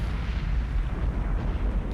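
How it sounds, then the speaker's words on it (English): Big explosion in the submarine game Cold Waters, a loud, sustained low rumbling boom filling the whole moment. "that was a big explosion"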